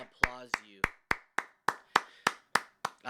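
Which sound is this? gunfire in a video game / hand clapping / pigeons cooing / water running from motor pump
hand clapping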